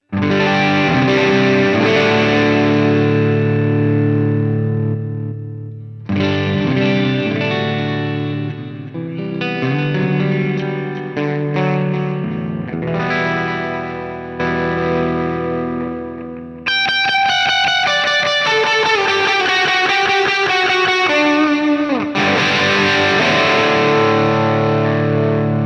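Electric guitar runs through a POD Go overdrive preset with an input gate, playing distorted sustained chords and arpeggiated phrases in several sections. The gate cuts the gaps between them cleanly to silence.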